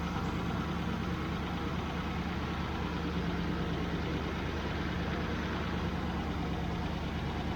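A Triumph Stag V8 on Stromberg CD175 carburettors idles steadily with a dense, even low rumble, close and constant, no voices over it.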